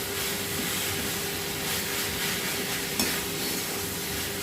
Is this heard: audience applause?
no